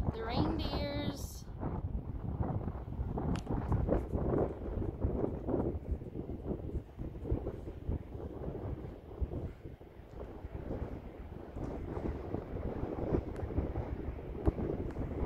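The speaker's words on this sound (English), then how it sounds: "It's windy." Gusty wind buffets the microphone throughout on a northern hilltop, a steady low rumble with occasional talk mixed in.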